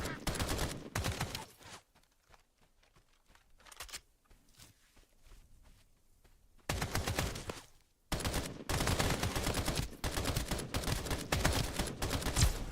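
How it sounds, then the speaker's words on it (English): Rapid bursts of gunfire from a gun in the game Escape from Duckov, fired in short controlled pulses, loud and close, with quieter footsteps and movement in a lull between volleys. "If I pulse the gun, it's much easier."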